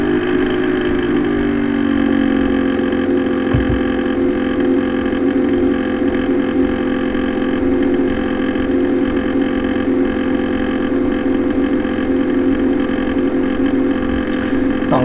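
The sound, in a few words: computer cooling fan noise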